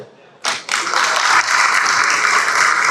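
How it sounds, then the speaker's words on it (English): Conference audience breaks into applause, a steady dense wash of clapping that starts abruptly and continues loud and sustained throughout. "Round of applause, please."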